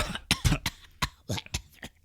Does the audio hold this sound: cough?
yes